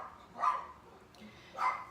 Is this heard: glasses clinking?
no